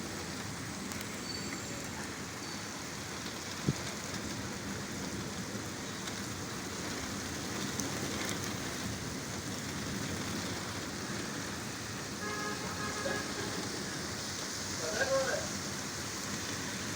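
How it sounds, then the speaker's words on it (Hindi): Heavy rain keeps falling over Bahria Town in Lahore as water collects on the ground, a steady, even wash of drops that continues for the whole stretch with only small bumps in level. "अभी तेज़ हो रही है बारिश।"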